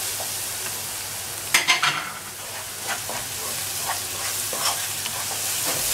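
Spices sauté with onions in a pan for an okra and lamb tagine, giving a continuous close sizzle, with a burst of scraping stirs near the middle and lighter stirring later, no voices.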